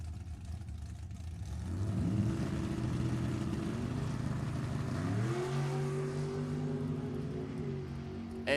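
A 1998 Mullis chassis dragster launches down a drag strip, its engine roaring up in pitch through two quick shifts as a sustained, fairly distant howl.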